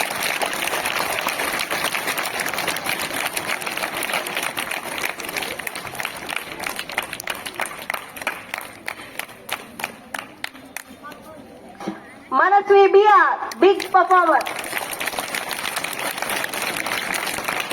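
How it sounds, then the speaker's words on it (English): A hall audience applauds student toppers at a school mid-term award ceremony, a dense, steady clapping wash that runs throughout while an announcer speaks over it; near the end a voice cuts through more clearly. "Give a big round of applause for them."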